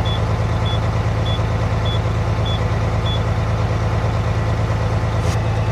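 Tractor trailer idling while its air tanks build pressure, a steady low diesel rumble with a repeating faint high beep about every half second, and a brief hiss near the end.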